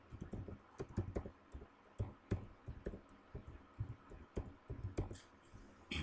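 A computer keyboard typing text into Creo design software, a steady run of close, crisp key clicks in irregular bursts with no talking.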